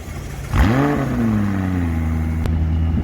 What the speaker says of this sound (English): Just go and have a listen to the exhaust.